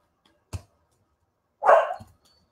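A dog gives a single short, sharp bark close by, followed a second later by a lower bark or grumble, with quiet in between.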